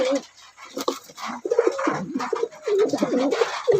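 A male homer pigeon coos close by in repeated throaty, rolling phrases, loud and clear with almost no background noise.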